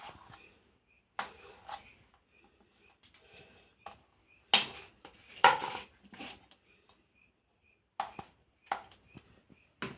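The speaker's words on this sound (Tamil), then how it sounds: "நல்லா க்யூப்ஸாக இந்த மாதிரி கட் பண்ணிக்கணும்." A knife cutting paneer into cubes, sparse sharp taps and clicks against a board spread over the stretch, close and fairly quiet with silences between cuts.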